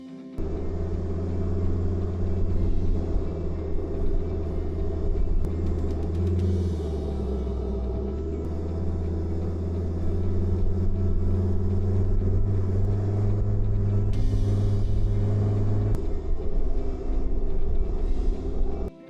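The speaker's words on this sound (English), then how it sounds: "stick it straight into four-wheel drive, and you shouldn't have too much of a problem" A four-wheel drive vehicle grinds along sandy dune tracks in a national park, a steady low engine rumble and drone heard from inside the cabin, continuous and fairly loud with a few shifts in pitch, no talk.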